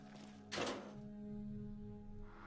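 A gun cabinet is opened in Fallout 3 with a single solid thunk, followed by a steady low in-game hum that lingers alone.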